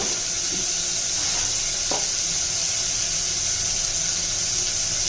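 Loud, steady sizzling of food sautéing in a pan for egg rice, with a couple of faint scrapes of stirring, close and continuous, no speech.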